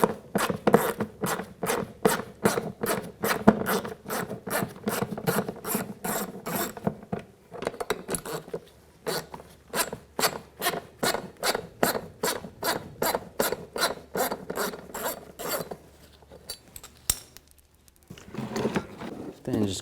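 A ratcheting socket wrench with a 7mm socket removes the bolts on the interior driver-side door pull handle of a 2007-2014 GMC Sierra 3500, giving long runs of rapid close clicking with brief pauses and a short stretch of muffled handling.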